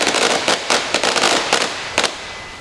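Firecrackers set off outdoors at a music performance event, a loud rapid string of sharp cracking bangs in irregular bursts over about two and a half seconds, with no talk.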